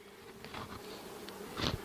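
Honeybees from a five-frame nuc crawl and fly into a new hive, giving a soft, close buzzing hum with a few brief louder wingbeats passing near.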